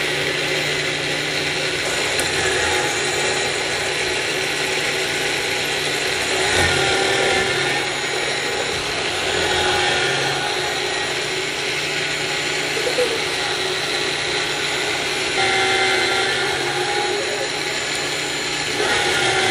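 A Yonanas dessert maker runs steadily with a loud, continuous mechanical whir and grinding as banana, strawberry and mango are pushed down into it, close up with no talk.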